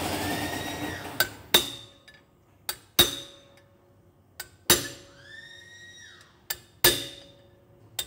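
Metal hammer blows driving a bearing ring inward, a series of sharp, ringing metallic strikes spaced irregularly, each with a bright clinking decay in a quiet space.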